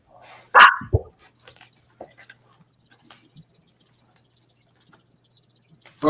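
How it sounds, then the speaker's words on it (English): A small chihuahua gives one sharp, close bark, followed by faint scattered clicks and ticks in an otherwise quiet room. "All right, who just barked?"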